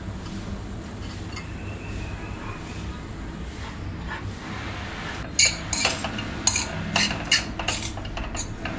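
Poha being stirred and mixed in a pan, with a steady low background hum and a run of clinking, scraping spoon-on-metal sounds toward the end.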